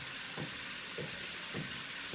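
Sliced potatoes fry in hot oil over a raised flame, giving a steady, soft sizzle and hiss with faint low thumps recurring at regular intervals.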